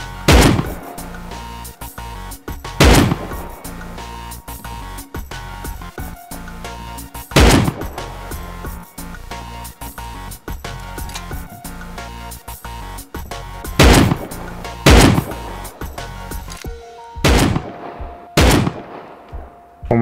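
Gunshots ring out in the Rust video game, spaced single and double shots with sharp attacks and ringing tails, plus a few louder cracks, spread unevenly across a long stretch of background game noise.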